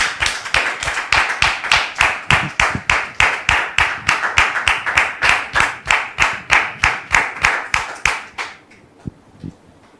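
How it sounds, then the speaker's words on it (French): An audience claps together in a steady rhythmic beat to welcome a guest on stage, loud and even, then stops abruptly, leaving a couple of stray claps. "Merci de recevoir, très cher public, Dame Ruth, sous vos applaudissements"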